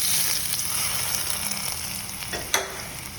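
Kalan curry tempering of dried red chillies and curry leaves sizzling steadily in a pan as it is stirred, with a sharp scrape of the spoon near the end.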